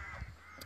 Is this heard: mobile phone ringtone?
no